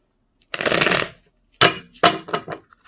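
A deck of tarot cards is shuffled by hand. Close, crisp riffling comes in a long first burst, then several shorter riffles and taps after a brief pause.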